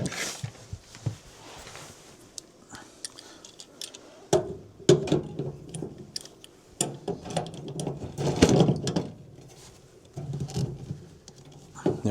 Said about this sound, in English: So now I'm going to go ahead and get my wrenches back on that.